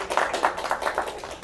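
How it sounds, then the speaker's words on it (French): Audience at a live stand-up comedy show claps in a loose, rhythmic burst of applause, moderately loud and steady for a moment with no talking over it. "Applaudissements."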